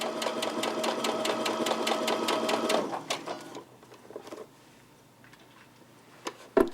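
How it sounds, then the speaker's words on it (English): A home sewing machine stitches with blue thread in a rapid, even mechanical clatter that slows and stops partway through, followed by quieter handling noises and a sharp knock near the end. "So I'm going to slow the machine down a bit."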